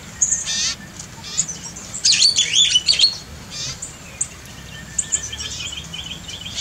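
Birds chirp and tweet inside a semi-natural aviary planted with fruit trees, with short bright calls coming in bursts, some close and some farther off, over a low steady background rumble.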